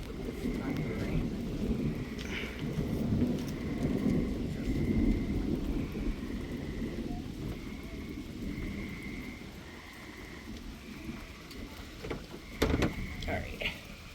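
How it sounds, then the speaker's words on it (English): Thunder rumbles low and rolling during a night thunderstorm, with rain hiss underneath and a sharper crack near the end. "Alright, stop with this thundering."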